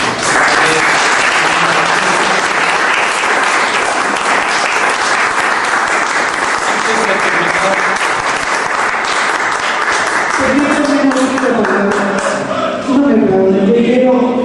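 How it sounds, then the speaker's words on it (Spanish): Audience at a talk on the Chilean experience of transition breaks into sustained, loud, dense applause that continues throughout, with a voice beginning to speak over it near the end. "Demos un caluroso aplauso"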